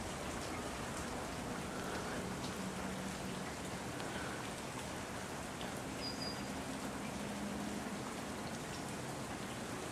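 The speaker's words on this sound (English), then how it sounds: "Someone's enjoying the rain." Steady rain falls on a backyard patio overlooking a pool and a small natural preserve at a West Palm Beach estate, a dense, even hiss of drops continuing throughout with no talk.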